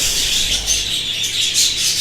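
Budgerigar chicks in their nests squawk and chirp in harsh, overlapping bursts, close and fairly loud, with no talking.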